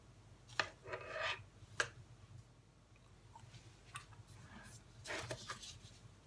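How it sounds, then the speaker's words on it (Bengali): A pastry brush spreads tomato ketchup over thick homemade pizza dough, making quiet, soft rubbing strokes that come in a few short bursts, with no talking. "এখন এর ভিতরে এভাবে টমেটো কেচাপ দিয়ে ব্রাশ করে দিতে হবে।"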